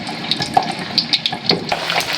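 Pork pieces for lechon kawali are dropped into hot water in a kitchen, setting off bursts of bubbling, sharp spits and splashes that come in quick irregular pops, close and moderately loud with no voices.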